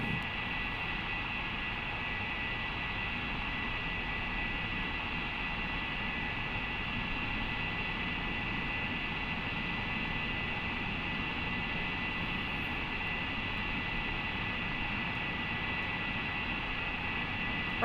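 Steady, continuous drone of MD-80 MadDog airliner engines in flight in Flight Simulator 2020, a constant broadband roar with a fixed whine layered on top, unbroken and even in level throughout with no talk.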